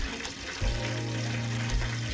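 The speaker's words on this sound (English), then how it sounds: "So I'm gonna pour some in the pan." Cooking grease is poured into a frying pan to fry fish, a soft liquid pour with a low gurgling tone that starts partway in and holds steady, close by and quiet, with no voices.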